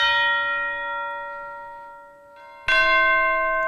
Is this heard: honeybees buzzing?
no